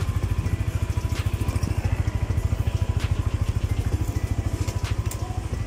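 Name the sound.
motorcycle engine running during wheel test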